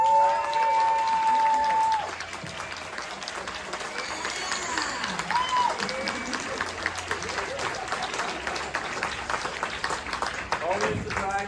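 A convention panel audience claps and cheers for a late-arriving cast member, a sustained spread of applause from a crowd heard in a hall, mixed with some talk over it.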